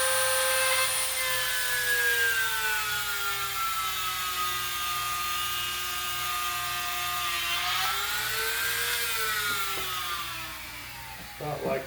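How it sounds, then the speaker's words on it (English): A Dremel rotary tool bores peg holes in wood for a handmade wooden rat rod model, a sustained high-pitched whine that sags and recovers as the bit bites, ending with a few clicks as it stops. "And I drill the holes out so I can peg it."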